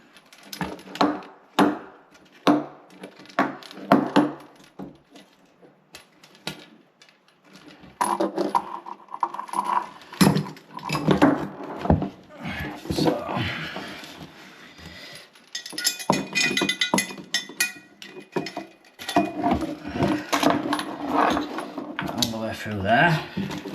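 Metal washers and nuts being fitted onto toilet bolts during a space-saving toilet installation, giving scattered small clinks, taps and rattles close by, mixed with intermittent talking.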